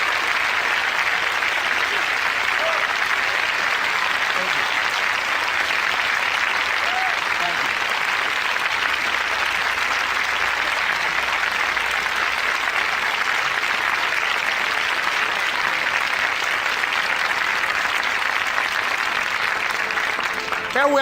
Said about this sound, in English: Let's give Mrs. Rosa Parks a round of applause